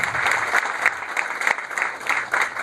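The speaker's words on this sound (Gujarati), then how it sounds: "આપણે વધાવી લઈએ તાળીઓથી એમને." Audience clapping at a meeting between police officials and industry representatives, a steady dense round of applause with scattered louder claps, sustained throughout.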